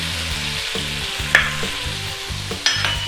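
Beef pad kra pao stir-fries in a hot pan with oyster sauce, a steady close sizzle broken by rhythmic scraping and clanking stirs, with no talking.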